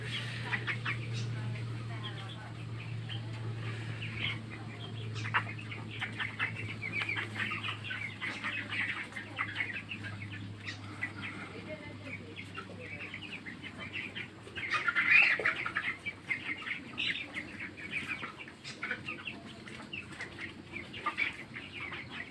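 Nineteen-day-old broiler chickens and roosters cluck and rustle throughout a poultry farm shed, a dense low chatter of scattered calls and occasional wing flaps over a steady hum, with a louder burst midway.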